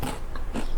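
A close, crisp crunch as someone bites into a giant homemade buttery Jammie Dodger biscuit, with a couple of short crackling snaps.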